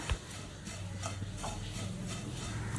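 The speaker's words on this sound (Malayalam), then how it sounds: "ആ ഒരു നെയ്യ് എല്ലാ ഭാഗത്തും എത്തുന്നത് വരെ ഒന്ന് ഇളക്കി മിക്സാക്കി കൊടുക്കാം." Flattened rice being stirred with ghee in a pan, a soft continuous scraping and shuffling with a few faint clicks of the spoon against the pan, close and steady throughout.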